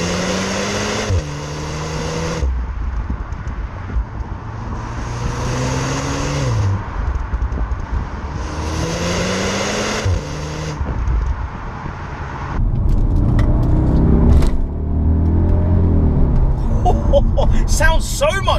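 Audi SQ2 with a stage 1 map accelerating through the gears in repeated loud, throaty pulls with pitch climbing and dropping at each shift, followed by rougher engine rumble; speech is heard over parts of it.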